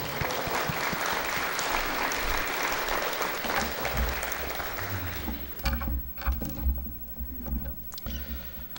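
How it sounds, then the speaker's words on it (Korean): A Korean church congregation applauds to welcome the pastor to the pulpit at a Sunday service, loud sustained clapping that fades out about halfway, leaving quieter room sounds and scattered noises. "우리 큰 박수로 환영하겠습니다"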